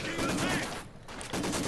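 Rapid machine gun fire from the Company of Heroes 2 battlefield rattles in dense bursts, breaks off briefly in the middle, then resumes, with faint voices underneath.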